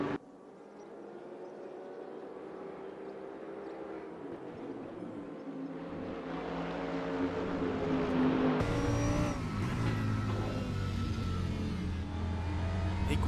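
A Mercedes race car in the RaceRoom racing game at the Hungaroring drones through a corner with a steady engine whine that climbs in pitch as it accelerates, followed by gear shifts and renewed revving, continuous and moderately loud.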